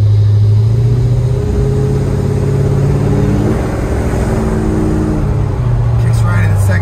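A 1979 Ford Ranchero with a 427 Cobra Jet engine and three-speed transmission drives along with a steady engine drone that drops in pitch as it shifts gears, heard from inside under someone talking.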